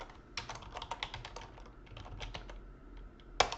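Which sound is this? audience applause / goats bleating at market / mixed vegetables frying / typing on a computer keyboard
typing on a computer keyboard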